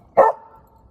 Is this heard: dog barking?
yes